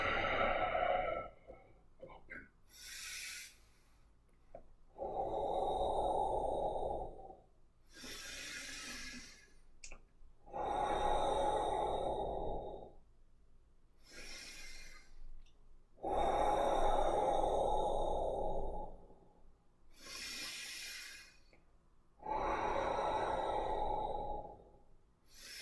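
Deep, slow breaths during qigong practice, roughly five long airy inhales and exhales in an even rhythm, close and clear with quiet pauses between.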